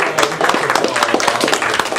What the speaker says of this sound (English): Somebody here is going to cheer loudly.